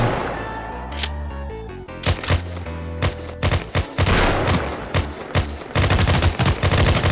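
Gunshots ring out in the mobile first-person shooter REC.O.R.D. Loud, sharp single shots come first, then rapid bursts of automatic fire, close and dense near the end.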